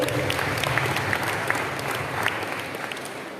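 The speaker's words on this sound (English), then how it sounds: "Please, let's give him a round of applause again." Sustained applause from a school audience at an awards programme honouring champions, a dense steady patter of many hands clapping at moderate loudness with no voices over it.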